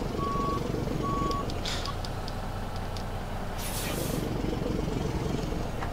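A Kenworth truck in American Truck Simulator is pushed along, its engine droning low and steady while two short reversing beeps sound early and a burst of air-brake hiss follows.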